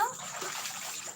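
Water splashes and trickles briefly in a short burst, fairly close, with a voice present alongside.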